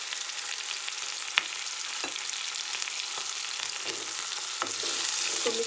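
Onion, garlic and asafoetida fry in a pan with a steady, close sizzling hiss, broken by a few light stirring clicks and scrapes, with no talking.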